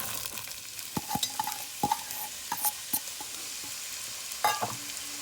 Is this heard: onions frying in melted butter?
yes